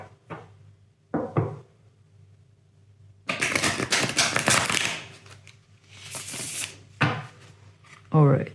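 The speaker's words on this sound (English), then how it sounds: "Just going to reshuffle my deck first." A deck of tarot cards gets reshuffled by hand in several short bursts of riffling and tapping, close and crisp, broken by quiet gaps and followed by a voice speaking near the end.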